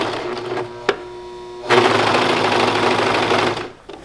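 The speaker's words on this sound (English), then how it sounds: "this is a serger, and it cuts and binds the fabric at the same time." A serger cuts and binds fabric with a steady mechanical whir. It starts with a lighter run, then a single click, then a louder, fast continuous rattle for about two seconds before it stops.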